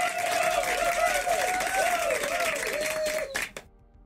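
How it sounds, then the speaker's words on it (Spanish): A crowd applause sound effect plays on a Spanish-language Apex Legends livestream: dense clapping and cheering, loud and close, holding steady for about three seconds and then cutting off abruptly. "Vamos a darle aquí un fuerte aplauso al nuevo Bill."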